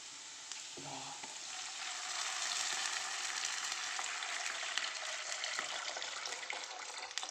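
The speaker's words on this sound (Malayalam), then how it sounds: "ഞാൻ ഇതിലേക്ക് എടുത്ത് വെച്ച് വെള്ളം ഒഴിച്ച് കൊടുക്കുന്നുണ്ട്" Water poured into a hot pan for rava upma sets off a steady, dense sizzle and bubbling hiss that swells slightly and holds, close and fairly loud, with no voices.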